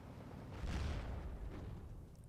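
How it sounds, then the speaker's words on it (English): Mortar fire from a radio-called mortar strike in the WWII strategy game Steel Division 2, a single deep low boom swelling after a short pause and rumbling away over about two seconds, with no talk. "Radio mortar doing what it does."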